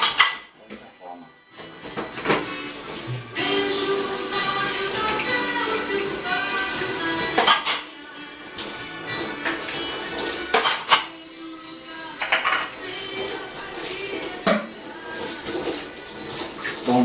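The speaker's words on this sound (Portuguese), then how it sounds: "ensaboar tudo uma vez, depois enxago tudo uma vez, água tudo uma vez só" Dishes and cutlery clatter and scrape under running tap water at a kitchen sink, with steady splashing and intermittent clinks of crockery close by, while a person talks at times over the washing.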